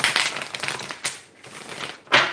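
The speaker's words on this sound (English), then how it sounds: "let me give it one good shuffle" A deck of tarot cards being shuffled, with crisp papery riffling bursts in a few quick clusters and a sharp final snap. The sound is close and clear, with no talking.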